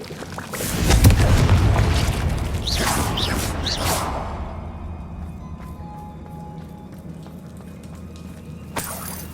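A fire spell explosion in Hogwarts Legacy, a loud deep boom with whooshing and crackling debris that slowly fades into a low rumble, followed by a faint click near the end.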